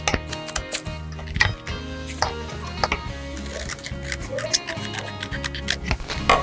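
Scissors cutting leather for a pentagon-shaped leather star plate, giving rapid, close, crisp snipping clicks in irregular bursts over a steady background hum.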